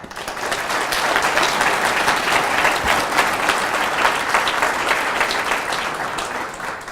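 An audience in a hall bursts into sustained applause to welcome speaker Rob Mee, a steady wash of many hands clapping that swells quickly and holds evenly loud before easing slightly at the end.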